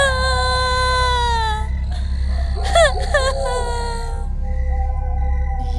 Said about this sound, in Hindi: ये इस घने जंगल में किस औरत के रोने की आवाज आ रही है?